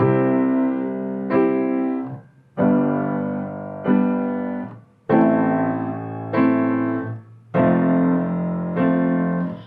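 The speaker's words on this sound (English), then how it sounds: "So you're going to play octaves with the chords." Piano chords struck in a steady rhythm, each bar anchored by deep left-hand octaves, ringing fully and decaying between groups.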